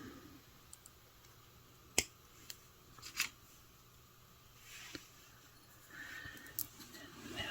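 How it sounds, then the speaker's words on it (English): Wire cutters snipping off extra jewelry wire while making a beaded necklace, bracelet and earrings set: a few sharp, isolated clicks at irregular intervals against a quiet room. "now I'm going to take my cutters and cut off my extra wire"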